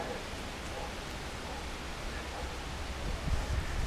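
Steady wind rushes through swaying treetops in a woodland, a broad, continuous, fairly faint roar that swells slightly toward the end.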